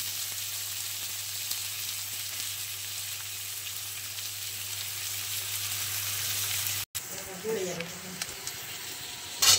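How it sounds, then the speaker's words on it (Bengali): Onions fry in hot oil with green chillies and a bay leaf, a steady close-up sizzle and hiss that runs continuously, briefly broken near the end by a clatter and a voice speaking. "এই যে এটা পেঁয়াজটা ভাজা হচ্ছে"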